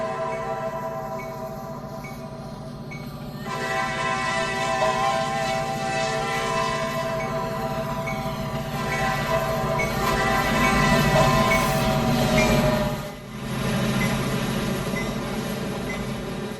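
A long coal freight train rumbles and clatters steadily past a crossing at close range, wheels grinding over the rails, loud and continuous throughout.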